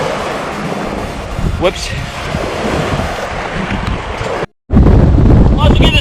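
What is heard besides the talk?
strong wind blowing on the microphone by the sea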